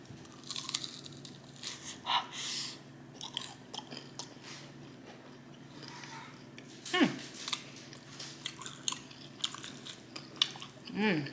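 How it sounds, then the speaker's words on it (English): Crunchy chicken wings are bitten and chewed close up, with sharp crackling crunches in irregular bursts over quiet background. "Look at that crunch"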